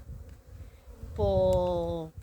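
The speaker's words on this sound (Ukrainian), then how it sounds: "Хоча бджолки літають, але ми ще поки зимуємо" Honeybees flying around a hive on the first cleansing flight in February, a close buzzing drone rising over outdoor background noise for about a second.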